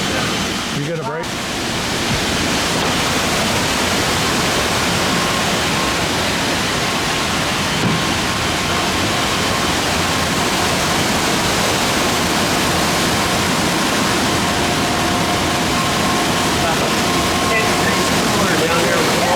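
Rushing water roars steadily inside a cherry processing plant, a loud continuous broadband wash that stays near and unchanging throughout, with no voices over it.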